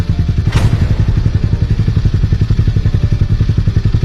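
A Hero motorcycle exhaust thumps loud and close in a fast, even pulsing idle rhythm, with a brief sharp click near the start and no talk.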